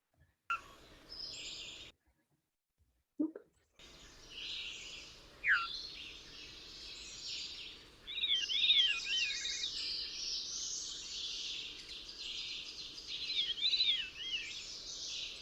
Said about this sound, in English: we're going to start with the veery